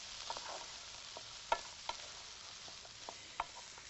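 Nutty vegetable pasta sauce with kidney beans is stirred in a pan, a soft, low simmering sizzle with occasional light clicks and taps of the spoon, quiet and close with no speech.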